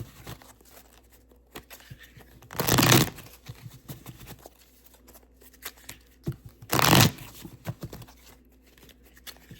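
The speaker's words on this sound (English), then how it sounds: "I'm going to shuffle the cards now" Two short bursts of tarot cards being riffle-shuffled, each a loud rapid flutter lasting about half a second, separated by quieter handling noises.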